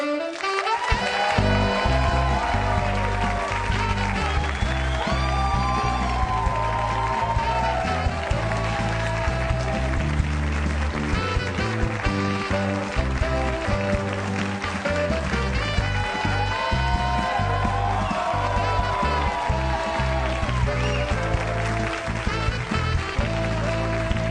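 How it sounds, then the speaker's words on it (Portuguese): A studio audience applauds steadily at a Brazilian TV talk show while a lively band plays on, music and clapping blending loudly together from start to finish. "A música e os aplausos."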